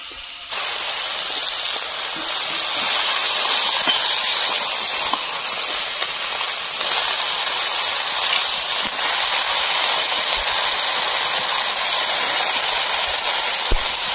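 Malabar spinach and potato hit a pan of frying lote fish (Bombay duck) and set off a loud, steady sizzle and hiss that holds evenly throughout, with no voices.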